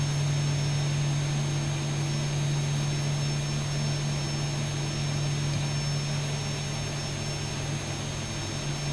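Boeing 737-800 jet engines in X-Plane 12, a steady loud whine and rumble with a constant tone while the airliner taxis, heard alone without talk.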